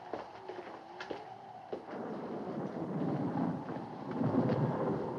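A howling windstorm in a 1958 horror film scene builds from a few faint knocks into a low, roaring rush of gusts that swells louder over several seconds, with no talk.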